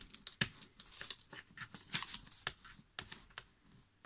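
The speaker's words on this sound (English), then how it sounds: "Fold it. Fold it. And burnish." A folded paper jeweler's envelope is burnished by hand, giving dry, close rubbing and crinkling scrapes in short irregular strokes with sharp papery ticks, quiet overall and with no talking.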